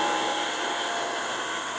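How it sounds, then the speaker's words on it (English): Dyson V15s Detect cordless vacuum cleaner running on a floor, a steady high-pitched motor whine with a constant airy hiss, close and unbroken throughout, no speech. "I'm now just going to vacuum on the floor whilst filming this"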